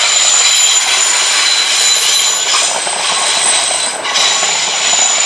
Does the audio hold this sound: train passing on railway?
yes